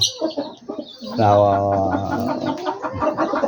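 Chickens kept as pets alongside pigeons and other birds cluck in short bursts, close by, with soft chirps and a voice talking among them.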